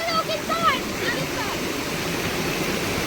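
A rain-fed waterfall roars steadily and close, with water splashing continuously under a family outing in the rain; people talk over it at the start.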